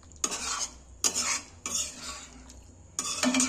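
Chickpea curry stirred in a pot, making four separate bursts of spoon-on-metal scraping and clinking with brief pauses between them.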